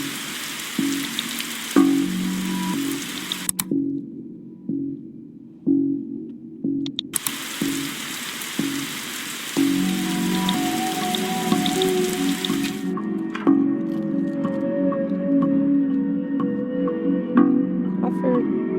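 Rain falls in The Darkside Detective video game, a soft steady patter with dripping, heard under a game voice and music that cut in and out, with a brief silence in the middle.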